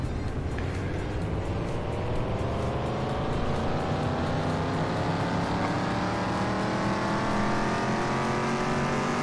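A car engine on a dyno in Car Mechanic Simulator 2021, originally 258 horsepower and fitted with high-performance parts, revs up in one long steady pull with its pitch climbing continuously, loud and unbroken throughout.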